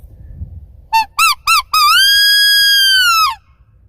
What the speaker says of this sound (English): Another thing you can do with this is a coyote call.